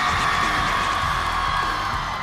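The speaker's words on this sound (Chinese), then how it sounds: "如果你们期待这场 battle， 再来点尖叫声吧。" A studio audience at a street dance competition show screams and cheers in a loud, sustained wash of crowd noise with scattered whoops throughout.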